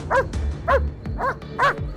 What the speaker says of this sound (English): the dog was barking ferociously